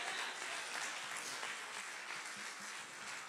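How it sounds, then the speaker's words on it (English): A church congregation claps together at the end of a service, a steady dense wash of applause holding at an even level throughout with no pauses, fairly distant and moderately loud. "let's clap for those who joined the family of the Lord."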